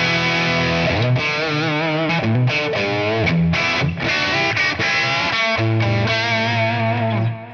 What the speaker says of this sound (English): I got some delay on that.